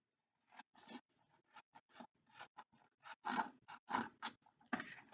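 Scissors snip through paper in a quick series of close, crisp cuts with short pauses between them, cutting along a drawn line on a sheet laid on a table, with no talking.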